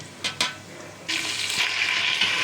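Ginger-garlic paste drops into onions frying in a pot, giving a couple of brief splats and then a steady loud sizzle that hisses on alone without any talking.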